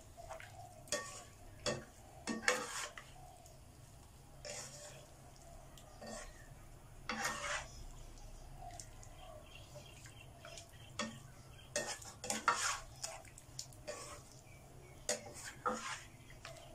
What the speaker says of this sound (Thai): แล้วก็ผัดให้มันเข้า ถึงจะออกเหลืองๆนวล